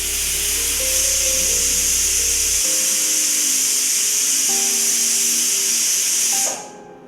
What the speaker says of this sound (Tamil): விசில் வந்துருச்சு இல்லையா? அடுப்பு ஆஃப் பண்ணிடலாமா?